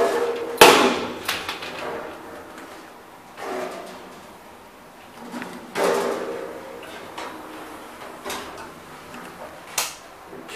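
Several sharp knocks and thuds of Shanghai Mitsubishi machine-room-less traction elevator doors bumping and rebounding during a bumper test, spaced a few seconds apart with a low hum between them.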